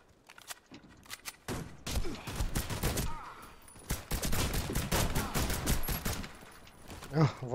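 Walther P99 pistol fire in the Warface shooter game comes as a dense fusillade of sharp shots in quick bursts, mixed with other gunfire from the fight, while a player talks over it.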